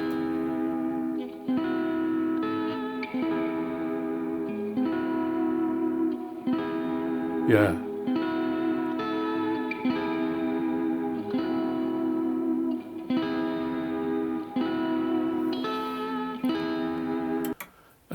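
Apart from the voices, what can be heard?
rhythm guitar part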